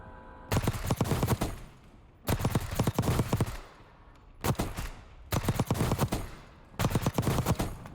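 A compact submachine gun with compensator and extended magazine fires in Warzone, delivered as five loud rapid-fire bursts separated by short pauses.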